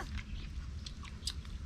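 Crunchy fried mudfish chewed close up, a few soft crisp bites and mastication sounds over a low background hum.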